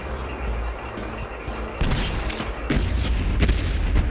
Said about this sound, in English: Does the sound of the rocket launcher is familiar to you or just me?